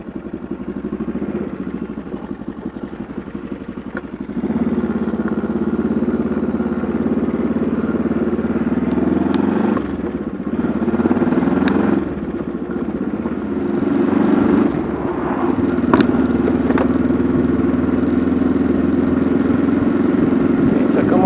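A motorcycle engine idles with a low, steady throb, then rises and holds a stronger drone as the rider pulls away near the Saint-Malo ramparts, and someone talks over the engine noise.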